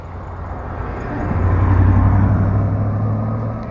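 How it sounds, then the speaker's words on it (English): UPS delivery truck arriving, a loud low engine rumble that swells in the middle and then eases slightly as the vehicle pulls up close. "I have a UPS truck coming."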